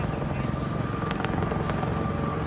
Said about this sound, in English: No, it looks like it might just be a tour helicopter showing them the island.